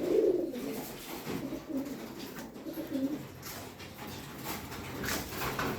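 A pigeon hen coos near the nest she is building, soft low repeated calls, fairly close, over quiet background ambience with no speech.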